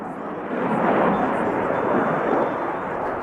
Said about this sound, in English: as the aircraft pitches up to the right, it is time to witness the agility of the aircraft to carry out a max rate turn